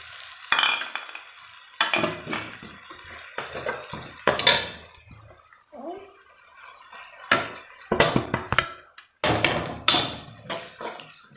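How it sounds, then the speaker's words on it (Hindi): Spices are stirred into tomatoes in a cooking pot for a village-style white lobia masala, making intermittent metallic scrapes, clinks and wet sizzling clatters in short irregular bursts. "मसाला जात हमने इसमें मिक्स कर लिए।"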